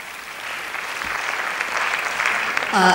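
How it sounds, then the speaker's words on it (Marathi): A crowd at an awards ceremony claps steadily, the applause swelling slightly toward the end as a voice starts speaking. "त्याच्यावर एकदा जोरदार टाळ्या वाजवून द्या."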